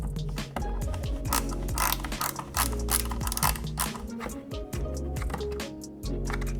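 A fastener is screwed into a rear spat on a 2015+ Subaru WRX, giving close, rapid ratcheting clicks and mechanical ticks in quick uneven bursts.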